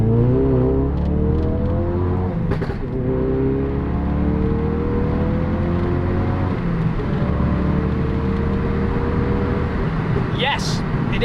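MK3 Ford Focus RS accelerating hard toward 70 mph, engine tone climbing through the revs, dropping briefly at a gear change and climbing again, loud and close inside the car.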